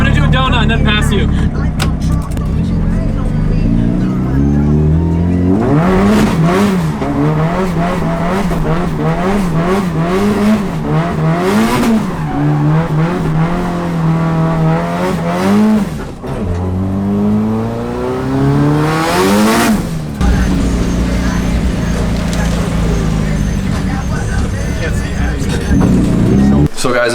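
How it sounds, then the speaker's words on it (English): Ford Mustang doing a donut, engine revving hard with rising and falling pitch sweeps and sustained loud roar, close by, with people talking and shouting over it at times. "I'm gonna do a donut and then pass you."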